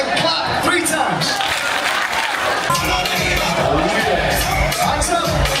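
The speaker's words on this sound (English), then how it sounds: "Alright, then we bring them up, and clap 3 times." Crowd on a cruise ship clapping and cheering during an electric slide line dance, a dense, continuous wash of applause and voices with rhythmic claps emerging in the second half, loud and close.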